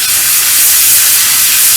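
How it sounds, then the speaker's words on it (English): An airbrush sprays paint onto the wheels of a StuG III Ausf. G model tank, a loud, steady, close hiss with no break and no voices. "So now I'm just starting to spray the wheels."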